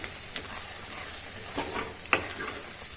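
Tomato thokku with coriander leaves is stirred in a pan over a medium flame, a soft steady sizzle broken by a few light scrapes and clinks of the spoon.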